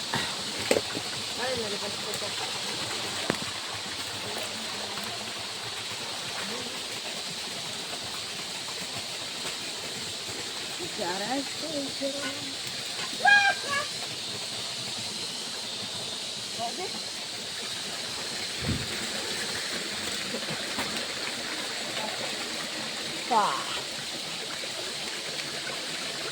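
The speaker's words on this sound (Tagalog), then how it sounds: "May na yung tubig ngayon dito." Stream water flowing through a forest, a soft continuous hiss running steadily underneath, faint and distant, with occasional voices and small noises over it.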